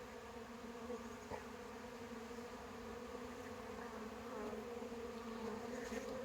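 A dense, steady buzzing of many honey bees inside a hive fills the air, a continuous droning hum with no pauses or voices.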